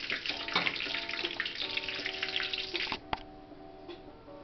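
Corned beef egg rolls frying in a pan, a steady close hiss and sizzle of oil that drops abruptly to a quieter simmer partway through, with a sharp tap shortly after.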